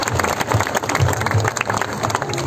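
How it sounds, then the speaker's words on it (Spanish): Applause from a church congregation at a Pentecostal church anniversary service, a full, steady wash of clapping hands, fairly loud and close, with a low murmur underneath. "Un fuerte aplauso."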